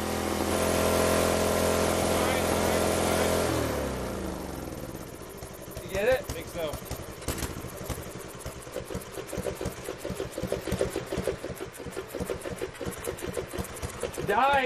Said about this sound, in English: Die, engine!